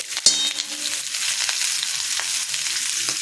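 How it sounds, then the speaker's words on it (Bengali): Boiled new potatoes frying in a pan with turmeric make a continuous bright sizzle, opening with a sharp spatula clink and followed by a few light scraping stirs. "এবার এটা অল্প ভেজে নেব, বেশি না।"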